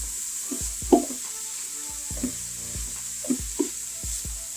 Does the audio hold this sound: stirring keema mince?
yes